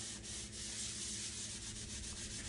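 A stovetop gets scrubbed with an EnviroScrub pad, giving a steady rough rubbing and scouring sound at close range, faint overall and with no talking.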